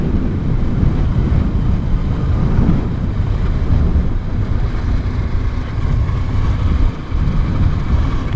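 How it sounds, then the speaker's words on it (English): Wind roars steadily through a motorcycle helmet on a Kawasaki Versys-X 300 riding along a pipeline in Botswana. The buffeting rumble is loud, close and unbroken. "So nice to feel the wind blowing through your helmet."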